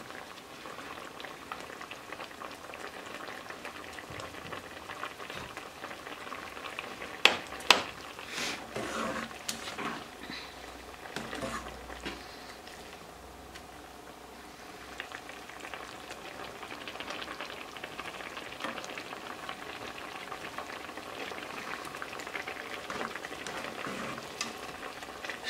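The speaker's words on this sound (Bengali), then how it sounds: "চিংড়ি মাছগুলো বলক চলে আসছে" Shrimp boiling in a spiced sauce bubble with a steady close hiss and sizzle for the whole stretch, broken by a few sharp clinks near the start.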